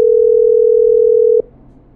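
A steady, loud single-pitch phone tone in the video game Killer Frequency holds for about a second and a half, then cuts off abruptly, leaving a faint hiss.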